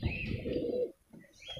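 A red-plumaged female pigeon gives a low, close cooing call, one sustained burst followed by a softer, shorter coo after a brief pause, with no voices.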